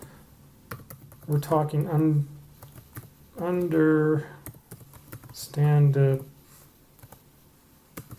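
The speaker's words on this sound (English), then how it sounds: "Typing is hard." Computer keyboard typing clicks away steadily in the background while a person talks over it, the keys faint but continuous throughout.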